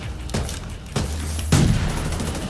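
Rapid Gatling gun fire in The Division 2 video game, heard as a few dense bursts with sharp onsets and sustained rattling tails, fairly loud against a steady background.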